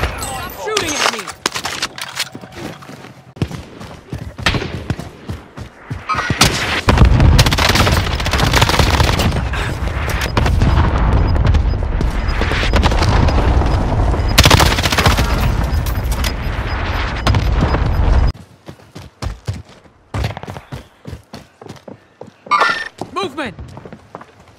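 Heavy automatic gunfire in a shooter video game, with sustained loud bursts through the middle stretch and sparser scattered shots at the start and end, while players talk and shout over it.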